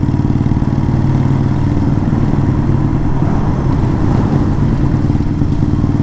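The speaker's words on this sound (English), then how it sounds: "I think my dad just did a rev bomb in that bridge" Dad's vehicle makes an engine rev on a bridge, heard as a loud, continuous, rumbling engine drone with a slight clatter, close and steady throughout.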